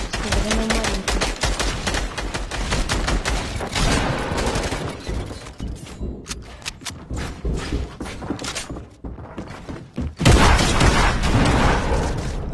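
Video game gunfire crackles in rapid bursts and scattered single shots, loud and close, with a heavier volley near the end and no talking.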